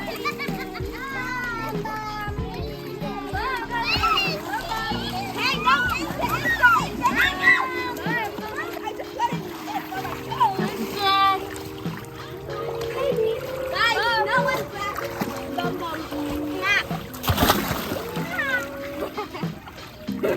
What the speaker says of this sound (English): Playing around in the water